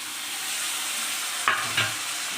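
Masala with chopped tomato frying in a pan, a steady close hiss of sizzling broken by two quick stirring scrapes near the end.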